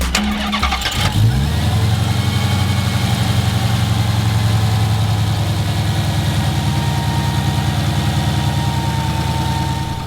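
A brand new 2018 Dodge Challenger SRT Demon with its 6.2-liter supercharged V8 cranks briefly, fires up loud and close, then settles into a steady, lumpy idle rumble that runs on alone.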